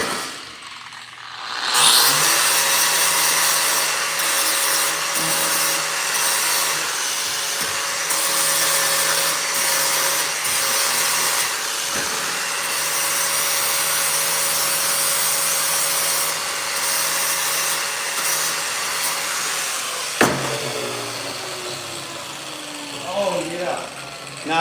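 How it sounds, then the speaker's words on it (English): Power sanding pad working a sheet metal panel for a plasma CNC table water shed: a continuous, close, harsh abrasive hiss and grind running throughout, with occasional knocks and a brief clunk late on. "I'm over here on the other side with my little sanding pad"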